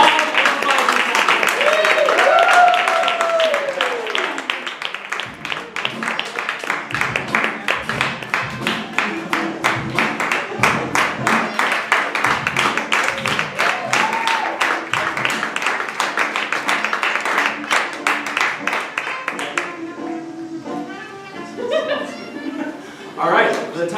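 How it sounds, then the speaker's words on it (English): Audience at an improv monologue slam competition applauds with dense, steady clapping for about twenty seconds, mixed with cheers and laughter, then tapering off near the end. "let's give a big round of applause."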